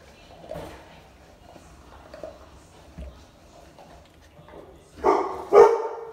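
Two loud barks from big dogs burst out near the end after a stretch of quiet background murmur, sounding fairly close.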